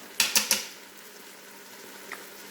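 Garlic tipped into vegetables sautéing in a Ninja Foodi pot: three quick clattering hits close by, then a quiet sizzle with a faint tap near the end.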